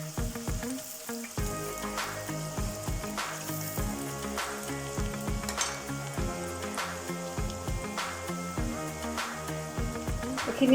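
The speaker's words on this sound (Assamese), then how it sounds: "এইখিনি ৰঙচুৱাকৈ ভাজিব লাগিব পিঁয়াজখিনি।" Onions frying in oil in a kadhai for chicken biryani, a faint, even sizzle with soft crackles and occasional stirring taps over background music.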